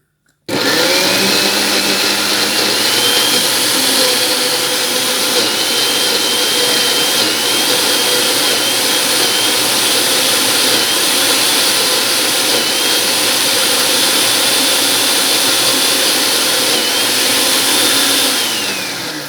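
A hand blender whirs continuously while blending a large batch of walnut pesto, a loud high-pitched motor whine running steadily close by for nearly twenty seconds, with slight shifts in pitch.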